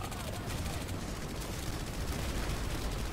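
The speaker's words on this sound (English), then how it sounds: "Stop shooting." Dense, continuous gunfire from a Planetside 2 battle, with rapid overlapping shots and rumbling blasts forming a loud, unbroken barrage for several seconds, and faint voices underneath.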